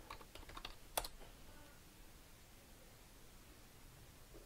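Password entered on a computer keyboard of a Raspberry Pi 4 setup, a brief faint patter of key clicks with one sharper tap, then quiet hiss.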